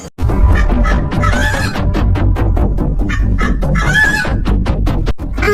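A cartoon chicken clucks and squawks frantically while being chased by a fox, loud continuous flustered calls with a few crowing bursts, close up and alone.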